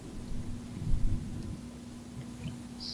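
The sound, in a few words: thunder and rain during a thunderstorm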